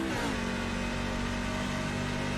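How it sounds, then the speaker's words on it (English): Racing truck engines rev loudly and steadily in a sim racing game at Texas Motor Speedway, a dense, continuous drone with rising pitch at the start and no talk. "We will have to turn the trucks down a little bit, I'm afraid. These things are so noisy."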